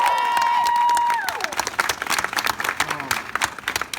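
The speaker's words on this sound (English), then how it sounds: "Can we give her a round of applause," Applause and some cheering from an audience, starting under a sustained tone. It becomes a dense, uneven clapping wash with a few louder claps and scattered voices for the remaining few seconds.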